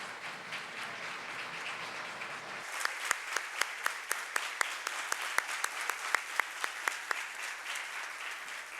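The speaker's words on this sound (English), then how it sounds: "we need to give him a round of applause again" Audience at a higher education summit applauding for the chancellor, dense sustained clapping whose character shifts partway as individual sharp claps emerge over the steady crowd sound.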